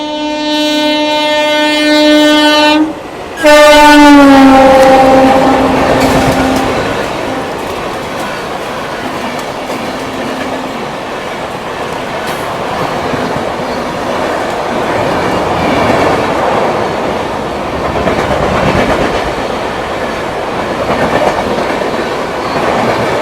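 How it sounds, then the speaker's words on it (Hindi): A Vivek Express train overtakes the Humsafar Express at high speed, starting with a loud, sustained horn blast that cuts off, then a close, continuous roar of wheels and rattling carriages rushing past with steady clickety-clack. "अपनी ये हमसफ़र एक्सप्रेस और हमसफ़र एक्सप्रेस को विवेक एक्सप्रेस ओवरटेक करेगी।"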